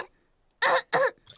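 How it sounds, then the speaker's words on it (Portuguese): Two loud, harsh coughs from a cartoon pig character with a cold in a Peppa Pig episode, each burst short and close, separated by a brief pause with a third starting at the end. "a tosse do Pedro é contagiosa"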